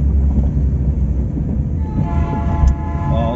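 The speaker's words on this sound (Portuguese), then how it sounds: "O trem tá passando, gente." A train passes close by with a loud, steady rumble throughout, and its horn sounds a sustained tone in the second half.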